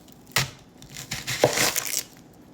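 An onion is cut with a knife, giving a sharp crunchy slice followed by a longer crackling cut through the layers, close and clear with no talking.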